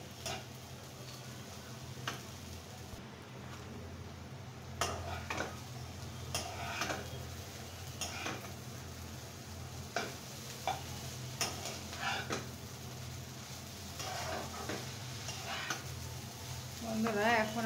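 Noodles and ingredients fry gently in a pan, with a low continuous sizzle and irregular light taps and scrapes of a spatula against the pan, quiet and close in a home kitchen with faint background noise.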